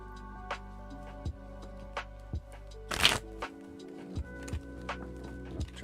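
Tarot cards being shuffled by hand, a series of soft, quiet riffling taps at a slow, irregular rhythm with one louder burst partway through, over a low background hum.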